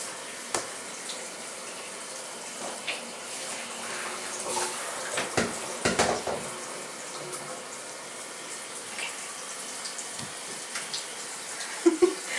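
Water runs steadily from a tap into a tub, splashing softly, with occasional knocks and thuds close by, while a kitten is being bathed.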